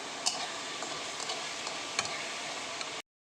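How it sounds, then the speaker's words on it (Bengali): Spice masala for a mutton curry with papaya is stirred and fried in oil, giving a steady sizzle under scraping spoon strokes and a few sharp clinks against the pan, with no one speaking. "এবার মশলাটা কষিয়ে নিচ্ছি"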